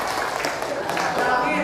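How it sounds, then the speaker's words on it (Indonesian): Classroom students clapping together in a teacher training lesson, a brief burst of group applause mixed with voices and chatter over it. "Tepuk tangan dulu semuanya."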